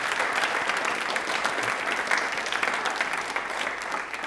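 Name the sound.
audience applause for the armed forces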